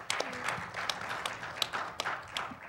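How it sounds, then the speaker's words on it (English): Conference audience applauding a journalist being introduced on a panel, a few seconds of fairly light, uneven clapping with distinct individual hand claps. "Please give a big applause."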